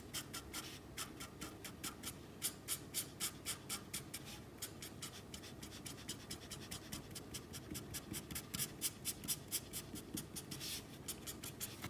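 Felt-tip marker scratching steadily across paper while colouring small yellow strands of hair on an easy emoji drawing, a close, rapid, rhythmic rasp of short strokes with no talking.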